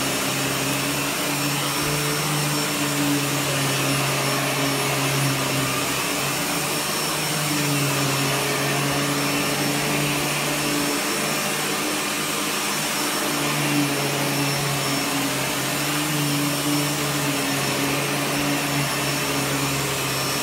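Miele S7 upright vacuum cleaner running on its high setting in carpet mode, a steady loud motor whine with a broad airy hiss that holds unchanged throughout, with no talk.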